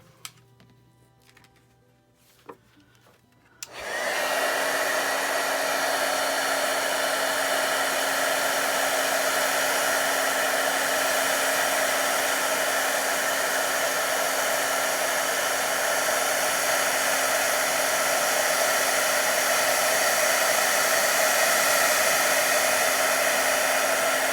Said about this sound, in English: And then I'm going to get my heat gun and emboss.